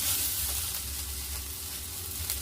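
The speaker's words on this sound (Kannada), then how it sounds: "ಈಗ ಇದಕ್ಕೆ ಸ್ವಲ್ಪ ಜೀರಿಗೆ ಹಾಕ್ಕೊತೀನಿ," Cumin seeds sizzle in hot oil, a dense, continuous hiss that stays fairly loud and close throughout, with no talk.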